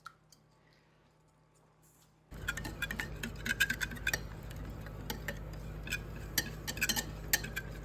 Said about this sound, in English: We're just going to whisk it around.